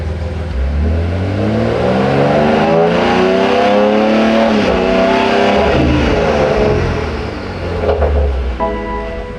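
A BMW M4 Competition engine revs hard on a dyno, climbing through several gears in loud sweeping pulls with a brief dip between shifts, close and dominant with no talk.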